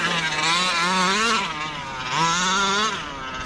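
A gas-powered 1/5 scale 30 Degrees North DDT RC car on its first run on stock tyres, its small two-stroke engine revving loud and close in two rising and falling bursts with a steady buzzing drone between them.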